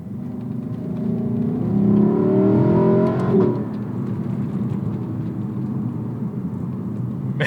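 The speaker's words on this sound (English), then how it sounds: "Man, that engine though." A 2018 Lexus LC500 V8 revs hard while accelerating in manual mode, a loud rising engine note that climbs for several seconds, then drops off into quieter road and tire noise.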